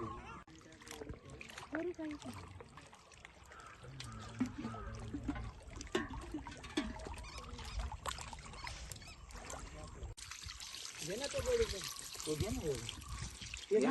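Water and milk poured over a deity during a Mahashivratri village festival in Kusur: an uneven trickle and splash running beneath near, continuous talking by several people.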